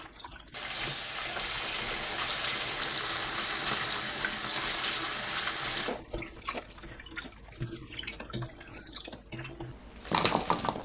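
Broccoli is rinsed under running tap water, with a steady loud gush from the faucet for several seconds, then splashing, dripping and handling noises in a sink as the flow stops and starts.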